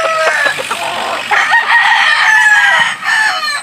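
Gamefowl roosters crow loudly in a rural backyard in La Union, overlapping drawn-out calls from several birds close by with clucking between them, no talk.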